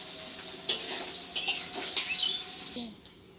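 A spice mixture with sour yogurt cooks in a pan for a potato and ridge gourd curry. A spoon scrapes and stirs in a few distinct strokes over a soft sizzle, then the sound drops away.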